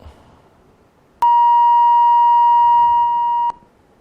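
A steady electronic phone-line beep marks an incoming call on a live broadcast, one loud sustained tone lasting a little over two seconds that starts abruptly, drops slightly near the end, then cuts off over faint room noise.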